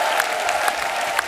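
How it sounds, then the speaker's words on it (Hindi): A studio audience on a comedy talk show applauds Sunny Paaji and Ameesha, giving a brief, steady, dense burst of many hands clapping with a faint crowd murmur underneath. "एक बार जोरदार तालियां हो जाए सन्नी पाजी और अमीषा के लिए"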